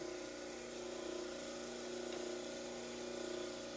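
A dental model trimmer grinds an orthodontic plaster cast, giving a steady, faint whirring drone with a low tonal hum that holds evenly throughout, with no voices.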